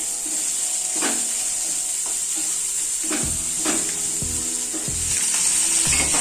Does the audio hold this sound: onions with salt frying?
yes